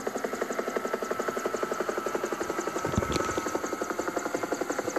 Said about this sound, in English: where's the helicopter? I cannot see it. I can hear it already.